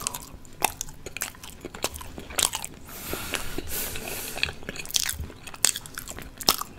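Eating baked salmon, raw fennel chunks and boiled potatoes, with close, crisp bites and crunches from the raw fennel repeating every second or so over soft, wet chewing, all near and alone without talk.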